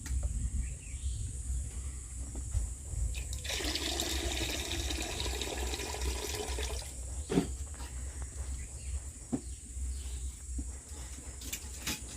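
Water from cooking rice pours off in a steady gush lasting a few seconds, amid quiet household ambience with faint bird calls and occasional small knocks.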